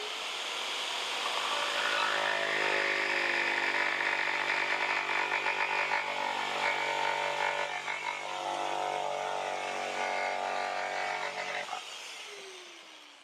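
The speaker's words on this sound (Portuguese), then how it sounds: "Agora vamos usar a serra de cutico para cortar essa parte de baixo." A power saw cutting the underside of a straight wooden stair tread, a loud steady whining buzz that holds for about ten seconds before spinning down, close up with no voices.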